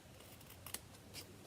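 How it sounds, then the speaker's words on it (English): Ribbon scissors snip the tails of a ribbon on a handmade greeting card, two quiet close cuts about half a second apart in an otherwise hushed room. "then grab your ribbon scissors"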